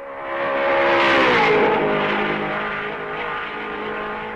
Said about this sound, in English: Trintignant guns his Ferrari and avoids being overtaken by the leader for the second time.